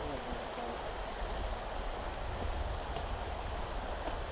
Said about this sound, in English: I always like the sound of rushing water.